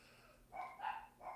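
A dog barks faintly in the background of a home podcast recording, two or three muffled woofs at a distance under steady room hiss.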